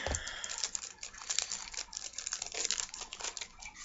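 Plastic packaging crinkles and crackles continuously as it is unwrapped from a TD-09 Eradicator of the Empire toy, close and fairly quiet, with irregular bursts of rustling and no talking.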